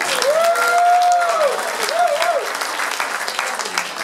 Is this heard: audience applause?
yes